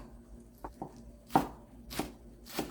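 A knife chops the green tops of scallions on a cutting board in a kitchen, several distinct close chops with a couple of soft taps first, then three sharper strikes spaced about half a second apart, with no talk.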